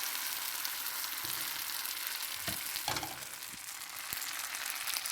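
A spicy masala makai roti mixture fries in an oiled pan, a dense, even sizzle lasting throughout, with a few dull knocks and scrapes from the pan being handled.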